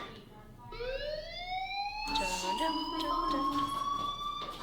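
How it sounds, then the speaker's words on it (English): An electronic fire alarm in the Life is Strange video game blares a steady rising tone, then switches to a louder, harsher warbling alarm that keeps sounding continuously, with no one speaking. "Hey, do you hear that fire alarm?"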